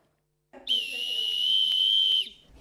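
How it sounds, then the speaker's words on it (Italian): A single shrill personal safety whistle blast for calling for help, loud and close, held steadily for nearly two seconds before cutting off. "Un fischietto per chiedere aiuto."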